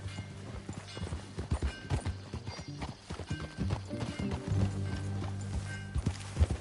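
Horse hooves clip-clopping at a steady walking pace on hard ground, fairly close, with a brief whinny and faint creaks of tack, under quiet background.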